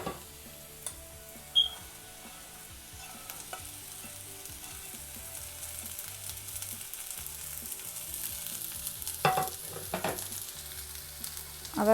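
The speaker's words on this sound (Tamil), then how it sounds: "அவரைக்காயை நல்லா வதக்கிடலாம்." Broad beans (avarakkai) sautéing with onions in a pan, a steady soft sizzle and frying hiss with occasional stirring scrapes and clinks, fairly quiet and close, no talking.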